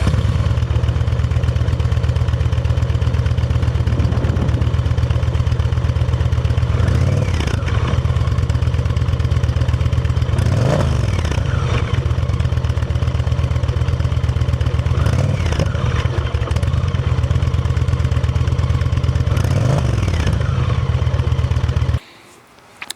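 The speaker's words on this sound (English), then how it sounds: "This is the stock exhaust." A 2025 Indian Challenger Dark Horse motorcycle on its stock exhaust runs steadily and loudly up close for about twenty seconds, with a few brief revs rising over the idle before it cuts off at the end.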